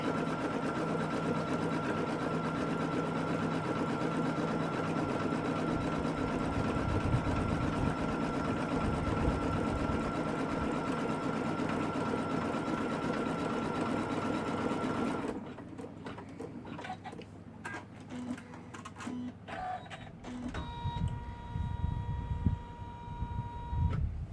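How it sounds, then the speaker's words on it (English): An embroidery machine runs a triple stitch that holds a bag lining to its back panel. It makes a steady mechanical whir for about fifteen seconds, then breaks into sparser, uneven stitching and clicks. "we stitch colorway 6, which is a triple stitch holding down the lining to the back of the bag"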